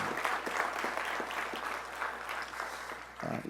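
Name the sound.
audience applause at promotions ceremony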